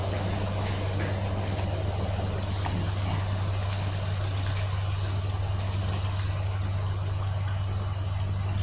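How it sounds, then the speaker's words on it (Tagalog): Water pours steadily into a saluna cooking pot, a continuous soft rushing stream with a low hum beneath it that lasts the whole stretch. "Lagyan na natin ng tubig."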